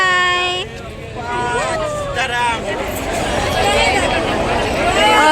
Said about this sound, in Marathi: तुम्ही इथे गर्दी बघू शकता किती मोठी अशी गर्दी झालेली आहे